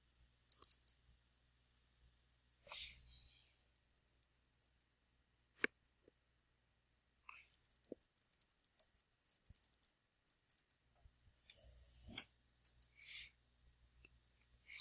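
A computer mouse clicking map points one after another to trace a route, crisp isolated clicks in irregular bursts against near silence.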